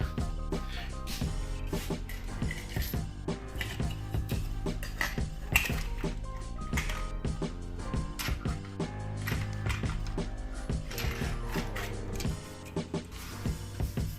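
Cutting the ends off a drilled metal block during an Audi A4 B6 07K engine swap, a steady grinding, ratcheting mechanical clatter with many sharp metallic ticks throughout, moderately loud and without talk.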